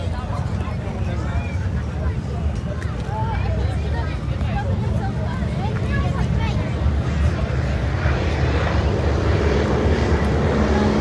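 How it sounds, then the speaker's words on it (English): Airshow aircraft carrying wing walkers fly past at Ayr beach, slowed to about 80 mph, their engines droning steadily and loudly over a continuous crowd murmur and outdoor wind noise. "The aircraft have now slowed down to about 80 miles an hour"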